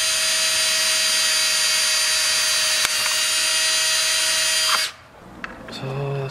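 A power drill with a metal-cutting bit drills into plastic, running continuously with a loud, steady high-pitched whine, then stops abruptly, followed by small clicks and handling sounds nearby.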